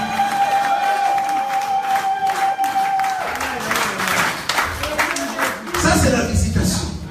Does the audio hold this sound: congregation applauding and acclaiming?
yes